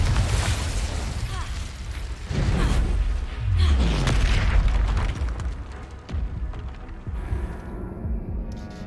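Incendio and Confringo spell blasts in Hogwarts Legacy combat: a rapid series of booming, crackling explosions and fiery bursts with low rumbles, loud and close, with a game soundtrack running underneath.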